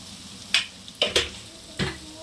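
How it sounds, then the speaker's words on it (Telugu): Grated raw mango with salt frying in oil in a pan, with a few quick stirring scrapes and clatters over a faint background. "ఇది కొద్దిసేపు ఆయిల్లో ఫ్రై అవ్వనివ్వాలి"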